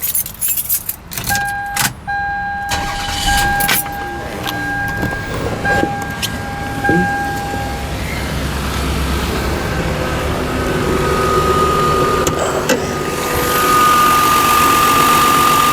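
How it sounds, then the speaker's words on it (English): A 2000 Toyota Avalon XLS V6 is started after keys jangle and a few clicks, the engine cranking and catching, then settling into a steady, fairly loud idle close by, with no talking. "I'll go ahead and start it."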